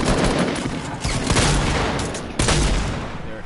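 Rapid gunfire in a video game, a dense, loud barrage of overlapping shots with several sharper bursts punching through a continuous roar of firing, close and sustained throughout without any voices.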